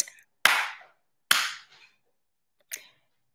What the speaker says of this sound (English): How many claps did you hear?